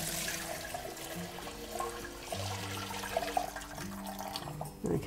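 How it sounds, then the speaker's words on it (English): Chicken broth for chicken soup pours through a sieve or colander, a close sloshing, trickling flow with small splashes over a few seconds and a brief louder gush near the end, no voices. "you're going to pour the broth through the sieve,"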